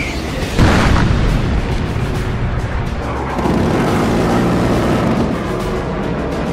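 Vietnam War air-to-air combat with 20-millimeter cannon fire, heard as loud sustained rumbling blasts, a heavy burst near the start and another surge midway, continuous and close.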